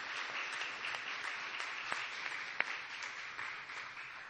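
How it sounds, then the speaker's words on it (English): Applause from a political gathering honoring local election candidates: steady, fairly distant clapping from a modest crowd, with a few sharper individual claps standing out. "Could we give them all a gigantic round of applause?"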